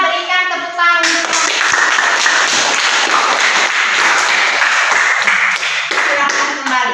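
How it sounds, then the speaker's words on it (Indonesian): Schoolchildren in a classroom clapping for a presenting group, a sudden dense round of hand claps that starts sharply and stays steady and close throughout. "Sekali lagi kita berikan tepuk tangan untuk"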